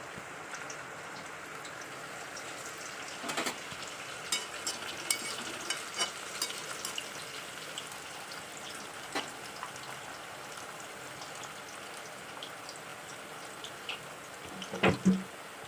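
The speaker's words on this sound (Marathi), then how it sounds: "आता मी तुम्हाला तळून दाखवते" Alu vadi deep frying in hot oil over a medium flame, a soft continuous crackle with scattered popping bubbles and a few sharp utensil knocks near the end, no talking.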